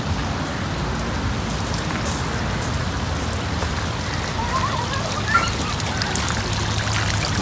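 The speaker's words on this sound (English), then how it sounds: "I'm so excited about the water features" Water features in a plant shop splash and trickle steadily, a dense continuous rain-like patter of falling water up close with no voices over it.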